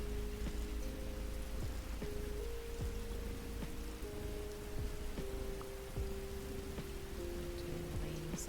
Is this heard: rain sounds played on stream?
yes